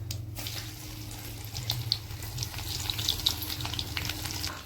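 Cumin and garlic fry in oil, a watery crackle and hiss with small pops over a steady low hum, close and moderately loud, with no voices.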